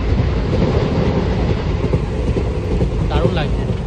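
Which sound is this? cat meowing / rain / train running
train running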